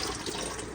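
Water poured out of a pot while washing rice, a steady close splashing stream running through the whole short moment with no talk.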